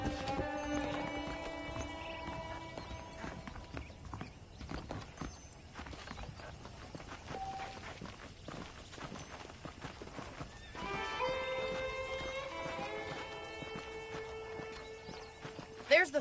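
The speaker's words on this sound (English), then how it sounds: "The horses are saddled up over here." Steady clip-clop of horse hooves under a bed of game music in Red Dead Redemption, with a brief whinny and a louder thump near the end.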